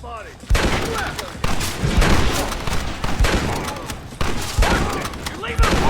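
Bursts of gunfire crackle through a firefight in the video game Red Dead Redemption, loud volleys and thudding impacts arriving in waves, with voices shouting over the shooting.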